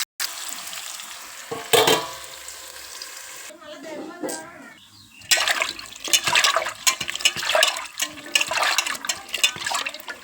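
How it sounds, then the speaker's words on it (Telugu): Sliced onions with masala and curry leaves sizzling and frying in a pan, a steady crackling hiss that grows louder after a stir, under someone talking. "ఉల్లిపాయలు మసాలు బాగా మగ్గనిద్దాం"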